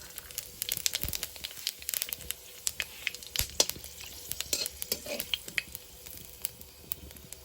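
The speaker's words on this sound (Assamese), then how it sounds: "তেলখিনি আকৌ গৰম হৈ গৈছে। এতিয়া মই ইয়াতে দি দিম দুটা শুকান জলকীয়া আৰু কেইটামান গোটা জিৰা আৰু কেইটামান জালুক।" Dried red chillies, cumin seeds and pepper sizzle in hot oil, a fairly quiet crackle of irregular sharp pops and spits over a soft hissing bed, heard alone without speech.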